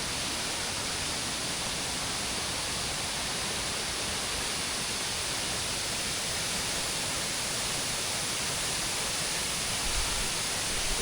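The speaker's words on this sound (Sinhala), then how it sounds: "දිය ඇලි පාරාදීසයක්" Kolapathana waterfall at Mandaram Nuwara pours down in a steady, dense roar of rushing water that stays close and even from start to finish, with no voices over it.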